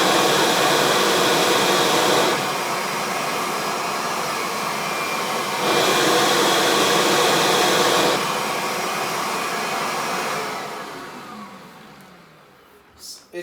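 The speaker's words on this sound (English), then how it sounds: "Your vacuum cleaner, this Kirby, is still making the same change. That's airflow you're hearing." Kirby vacuum cleaner motor and airflow with a loud, steady broadband roar that rises and falls as the airflow changes, then winds down near the end.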